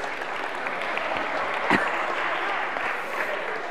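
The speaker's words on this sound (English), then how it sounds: "Shall we give them a round of applause?" A church congregation applauds in a steady, moderate wash of clapping through the whole stretch, with one sharper knock or clap standing out near the middle.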